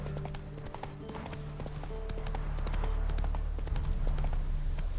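Hoofbeats of Roach, Geralt's horse in The Witcher 3: Wild Hunt, clop along in a steady galloping rhythm over a game soundscape, loud and close, with no talk.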